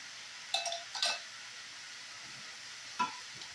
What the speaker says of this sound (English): let's saute these mushrooms now